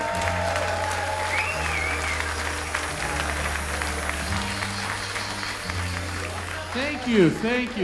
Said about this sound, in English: Thank you for the medium amount of applause